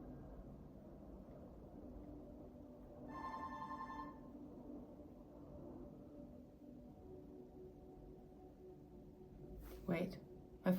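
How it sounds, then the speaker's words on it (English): A phone rings in a single short burst of bright, buzzing tones against a steady indoor background hum, followed by a few brief knocks or clatters near the end. "wait, my phone is ringing."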